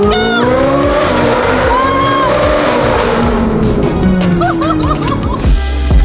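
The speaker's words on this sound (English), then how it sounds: "let's do a tunnel blast" A Ferrari 458 with F1 race headers roars and revs hard toward 9,000 rpm in a tunnel, echoing, pitch rising and falling through gear changes, with tire squeal and shouting voices.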